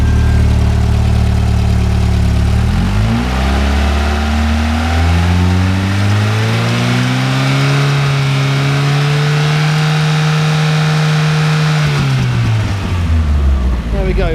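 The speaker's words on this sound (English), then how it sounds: "I thought I'd run it with a bit of revs on the engine." A car engine runs at idle, then climbs to a raised, steady rev for several seconds before dropping back to idle, loud and close throughout, during testing of the alternator and fuel pump.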